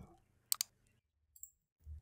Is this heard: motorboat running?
no